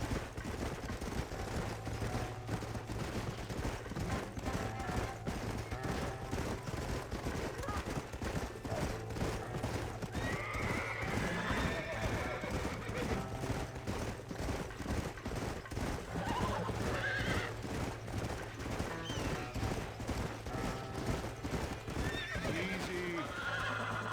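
Horses whinny and hooves clatter at a gallop in the Western video game Red Dead Redemption, with bursts of gunfire in a dense, continuous mix that runs steadily throughout with no clear pauses.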